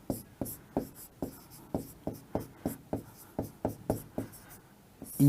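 Handwriting with chalk or pen during a lesson on the solar system: a series of about twelve short, crisp strokes in a steady rhythm, close and distinct, with no talking over them.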